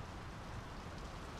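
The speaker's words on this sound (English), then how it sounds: "The rain's picking up." Steady rain falls in the video game Draugen, a dense, even hiss of drops on surfaces that holds at an unchanging low level throughout, with no other sounds over it.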